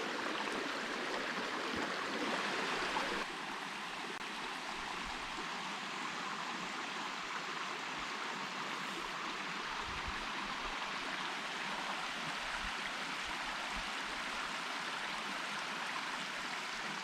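Brook water flows steadily over a small deep pool in a stream, a continuous close rushing wash with a brighter, louder surge in the first few seconds, no voices.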